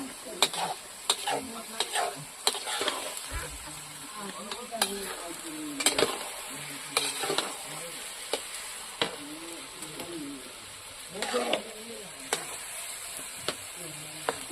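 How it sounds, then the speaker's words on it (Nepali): Food stir-fried in a pan over a village-style cooking fire, with a steady sizzle broken by repeated scraping and stirring strokes of a spatula, close and fairly loud, no talk. "यो चाहिँ भुटिरहनु पर्ने अरे नि।"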